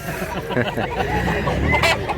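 A Black Hennei stag rooster, about a year old and medium-sized, clucks in a short burst of choppy, close calls mixed with background noise, while people talk faintly nearby.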